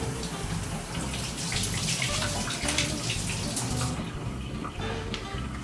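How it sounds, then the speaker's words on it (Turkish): Hands being washed under a running kitchen tap, a steady close rush and splash of water for the whole stretch, thinning slightly toward the end; no talking. "Ellerimi yıkayıp hemen geliyorum."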